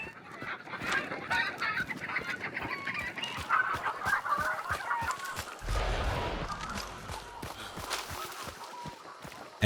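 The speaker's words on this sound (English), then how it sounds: "But then I just stumble across the chicken coop." Chickens cluck around a chicken coop in the video game Hunt: Showdown, a busy stream of bird calls mixed with rhythmic footstep-like thumps and a low rumble partway through.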